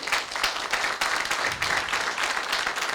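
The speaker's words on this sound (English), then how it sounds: "Let's give him a clap." A project launch audience applauds together, a dense, even wash of clapping from many hands that holds steady for a few seconds.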